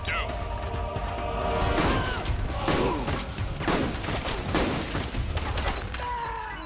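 Gunfire in Metal Gear Solid 4: Guns of the Patriots on PS3: a dense run of shots and impacts fills the clip, with a voice talking over it.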